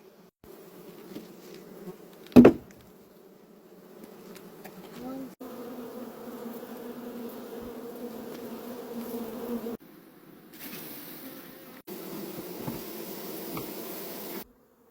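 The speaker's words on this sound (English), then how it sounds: "This is a lot of bees." A honeybee swarm being captured on Vancouver Island makes a dense, steady buzzing drone in several stretches, with a loud knock near the start and brief quiet gaps between.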